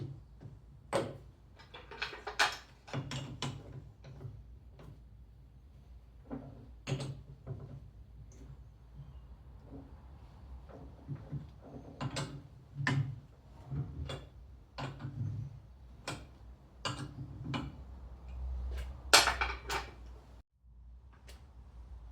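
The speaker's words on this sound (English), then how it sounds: "we're mounting the collet block in a 4-jaw chuck" A collet block is fitted into a lathe's 4-jaw chuck that has magnetic aluminium jaw pads. Sparse, faint metallic clicks and knocks come at irregular intervals over a quiet background, with no talking.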